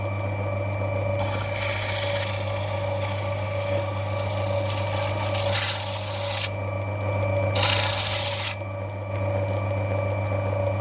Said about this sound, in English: I'm on the 150 grit wheel, rather than wear down my 260 grit doing all this.